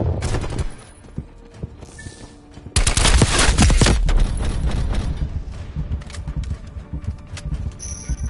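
Rapid bursts of automatic gunfire from Call of Duty Cold War on PS4 Pro, quieter shots at first then a loud sustained volley, trailing into scattered shots.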